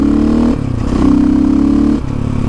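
A red and black dirt bike's engine revs loudly and close by. It runs at a rough idle, climbs into a sustained higher rev, then drops back sharply, with some mechanical clatter throughout.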